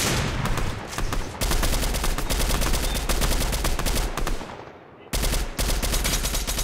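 Dense, loud automatic gunfire rattles almost without pause in the video game Fortnite during a zero build squads match, with one brief lull before the shooting resumes.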